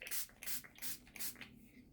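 A hand-pumped water spray bottle mists blobs of paint on a palette, giving four or five quick, soft, hissing bursts in a steady rhythm, faint and close.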